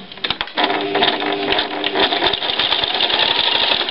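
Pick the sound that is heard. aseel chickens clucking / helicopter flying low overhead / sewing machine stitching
sewing machine stitching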